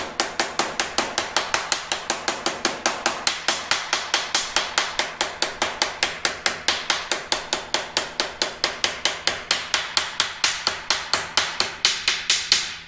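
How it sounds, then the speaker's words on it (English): A hammer taps steadily on a hand-formed sheet metal rear floorpan of a 1967 Kaiser Jeep M715, a rapid, even run of sharp metallic strikes, close and loud, continuing for many seconds without talk. "really now I'm tapping and listening more than I am looking"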